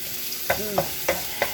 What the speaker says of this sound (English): after you fry the garlic, you fry it till it's fragrant